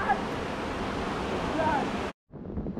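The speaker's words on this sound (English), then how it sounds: "Little waterfall" Small waterfall in a far north Queensland rainforest, a steady broadband rush of falling water close to the microphone, continuous for about two seconds before cutting out briefly and resuming.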